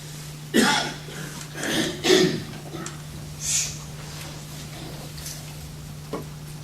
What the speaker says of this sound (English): And clear my throat